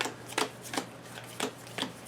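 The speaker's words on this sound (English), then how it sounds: "And shuffles again." Playing cards from a Pathfinder adventure card game shuffled on a table, a few distinct riffling bursts spaced roughly half a second apart, close and fairly loud, with no talk.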